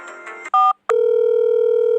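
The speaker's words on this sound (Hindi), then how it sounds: "तो फिर मैंने धुन्नू को फ़ोन किया" A telephone is dialled: a couple of sharp keypad tones sound, then a brief gap and a steady, loud dial or ringback tone that holds alone to the end.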